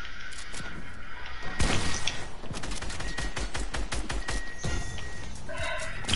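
Rapid bursts of video game gunfire during a Fortnite-style build fight, dense overlapping shots and crashes that are loud and continuous across the whole stretch.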